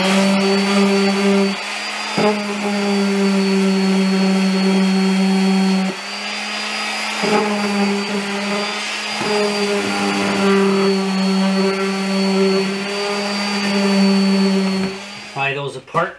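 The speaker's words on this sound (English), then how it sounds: "Then I will give it a light sand" A power sander works over a wooden vinyl record storage unit, a loud whining motor tone in several long bursts with brief pauses and shifts in pitch, close by.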